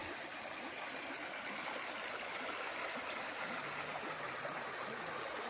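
A river stream flowing below a sloping farm property in Nagcarlan, Laguna, a soft steady rush of water heard from a distance, continuous and fairly quiet with no voices.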